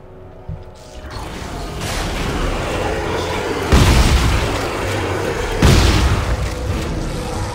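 A trap's control device is shot in Dead Space 3: two heavy, booming impacts land a couple of seconds apart over a constant mechanical rumble, each with a short, echoing decay.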